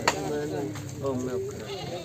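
A small goat bleats in a few quavering cries at a busy goat market, heard close amid people talking.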